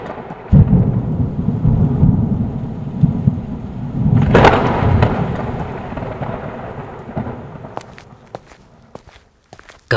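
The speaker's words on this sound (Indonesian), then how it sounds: "Malam itu, entah kenapa hujan turun dengan sangat deras." Heavy night rain pours down as a sound effect, with a deep roll of thunder swelling midway and fading while the rain keeps hissing, and a few sharp crackles and knocks near the end.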